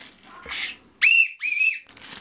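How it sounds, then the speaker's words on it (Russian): A small toy whistle from China, meant for forest walks, gives two short shrill blasts close by with a brief pause between them, over light room noise and no speech. "Это свистулька в лес ходить, когда пойдем в лес, там обязательно нужны свистульки."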